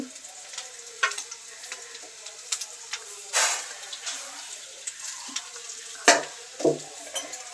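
Rice stirred into fried ginger garlic paste in a pan, producing a soft continuous sizzle broken by several sharp scrapes and knocks of the spoon against the pan, close up with no talking.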